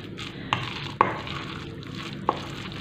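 Bread soaked in dengal mixture being stirred and mixed, a soft wet squishing with three sharper knocks against the bowl, close and steady with no talk.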